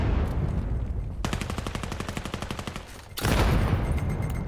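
Rapid automatic gunfire crackles in a tactical video game match, a fast even burst of shots lasting about two seconds, then a louder clash of noise at the end; no voices.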